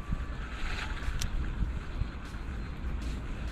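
A fishing boat's motor runs steadily on a winter lake during pike fishing, a constant low drone mixed with wind noise, with no talk.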